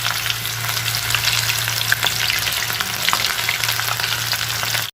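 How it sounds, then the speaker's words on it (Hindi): Mushrooms deep fry in hot oil, giving off a dense, even bubbling sizzle, close and loud, holding steady throughout with light crackles and a low steady hum behind it. "ये हम लोग ये मशरूम को करेंगे फ्राई डीप ऑयल में, लाइट गोल्डन ब्राउन।"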